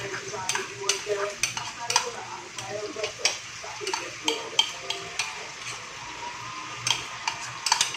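Squid adobo simmering and sizzling in sauce in a pan, a steady crackling fry broken by repeated sharp clicks and scrapes of stirring, close and fairly loud, with no talk.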